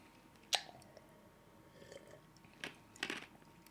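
Crunchy food being chewed close to a microphone, a few sharp separate crunches spaced across a few seconds against quiet background hiss.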